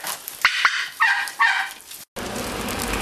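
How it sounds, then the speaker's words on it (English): Turkeys gobbling in a winter farmyard with chickens nearby, a few loud bursting calls close by, followed by a steady rushing background. "So many turkeys."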